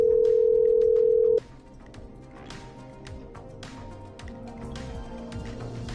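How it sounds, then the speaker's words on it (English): A steady, loud telephone dial tone in the video game Killer Frequency holds for about a second and a half, then cuts off abruptly, leaving quieter game music and ambience behind. "I'm dialing. One moment."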